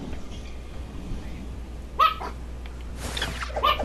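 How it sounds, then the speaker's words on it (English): In the Fortnite video game, a dog gives two short barks, moderately close, over a quiet background hum. "That is your dog."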